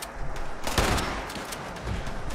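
Gunfire in the video game Fallout 76 rings out as a burst of sharp, loud shots with one especially strong blast in the middle, followed by rattling echoes, and no speech over it.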